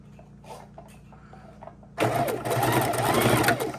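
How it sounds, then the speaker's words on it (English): A heavy-duty sewing machine stitches a quilt seam a quarter inch from the center row, starting after a quiet lead-in with faint handling noise and then running as a fast, steady mechanical whir close by. "to sew 1/4 inch in on either side of the center row"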